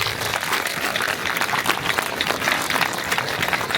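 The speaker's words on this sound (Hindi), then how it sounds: "आपके अध्यापक के लिए आप सभी तालियां बजाइए" Steady applause from a large group at a district-level youth parliament in Jhiri, dense and continuous clapping filling the space at a constant level throughout.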